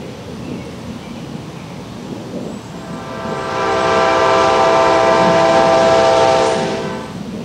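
A train rumbles along, then sounds a loud, sustained horn blast that holds for several seconds before fading.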